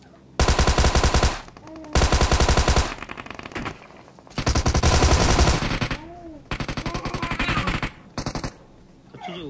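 Loud automatic gunfire from a video game crackles in several long, dense bursts separated by short pauses, close and dominant with no talk over it.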